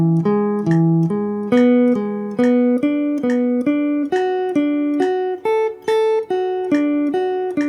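A clean guitar plays an Ionian major arpeggio in groups of three, a steady run of evenly picked single notes stepping up and down the scale, close and clear with no talking.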